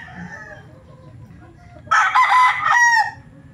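A rooster crows once, loud and close, a harsh drawn-out cock-a-doodle-doo rising after a quiet stretch of background noise.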